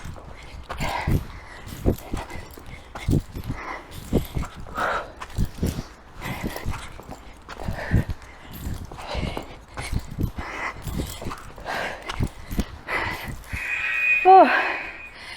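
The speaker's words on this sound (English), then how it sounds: "Then we have our sideways jumping jacks," Feet land in quick rhythmic thuds as a person does sideways jumping jacks in a Tabata exercise class, a steady beat of footfalls on the floor running under an instructor's voice, with a short high beep near the end.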